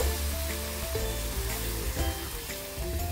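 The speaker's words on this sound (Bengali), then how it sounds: "এখন আমি দুধ 1 কাপ অ্যাড করব। এটা হচ্ছে গরম দুধ, আমি দিচ্ছি 1 কাপের মতো আমি দেব।" Hot milk pouring into a pan of carrots already fried in ghee for carrot halwa, giving a steady, close sizzle and bubbling hiss that runs unbroken for about three seconds without any talking.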